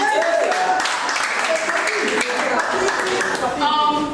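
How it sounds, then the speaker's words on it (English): An audience applauds at an MMM business presentation in a hotel hall in Ojo, Lagos, Nigeria: steady, dense clapping that fills the room for about four seconds, with voices mixed in. "Please a round of applause for that."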